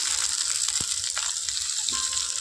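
Slices of pointed gourd fry in a wok with a continuous crackling sizzle, broken by a couple of soft clinks and taps as pieces are added one by one.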